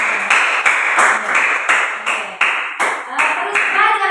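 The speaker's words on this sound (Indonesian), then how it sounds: "Ya, tepuk tangan." A class clapping hands together in a Catholic religious education session, heard as a series of roughly ten distinct, evenly spaced bursts of unison claps, close and fairly loud.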